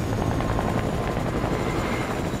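Helicopter in Fortnite Battle Royale, a steady, loud rotor thump and engine rumble that holds evenly throughout without any talking over it.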